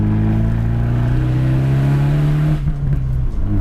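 A 1.4-liter four-cylinder MultiAir turbo engine in an Abarth 124 Spider drones steadily and loudly while driving, its pitch holding then dropping off near the end as the throttle eases.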